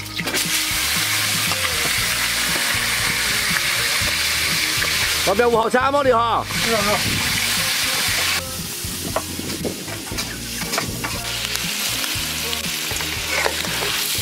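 A fish head stir-fried in a wok, producing a loud, continuous sizzle with scraping stir strokes and splashy bursts midway, while voices chat over the cooking.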